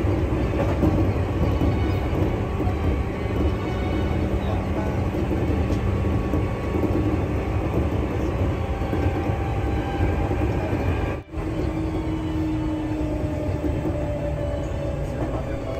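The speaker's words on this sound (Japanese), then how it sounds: "列車は東伏見を通過いたします。" A Seibu Shinjuku Line train rolls through Higashi-Fushimi station with a steady rumble of wheels on rail heard from on board, holding constant for the length of the pass, briefly interrupted by a sharp dropout near the end.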